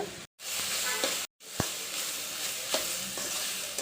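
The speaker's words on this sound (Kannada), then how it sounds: "ಈಗ ನಾವು ಮಾಡ್ಕೊಂಡಿದ್ವಲ್ಲ ಮಸಾಲೆ ಅದನ್ನು ಹಾಕ್ಕೊಂಡು ಚೆನ್ನಾಗಿ ಮಿಕ್ಸ್ ಮಾಡ್ಕೊಳ್ಳೋಣ" Masala being stirred into tomato and sprouted gram frying in a pan for molake kalu palya: a steady close sizzle with scraping stirs and a few sharp spoon knocks, broken by two brief silent gaps.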